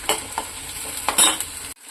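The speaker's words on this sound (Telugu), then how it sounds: "ఒక గిన్నె అయితే పెట్టేసుకుని ఆయిల్ వేసుకుని ఆనియన్స్ అయితే ఫ్రై చేసేసుకుంటున్నాను." Chopped onions and green chillies sizzle in hot oil in a pot, with a steady frying hiss broken by a few scraping stirs before the sound cuts off abruptly.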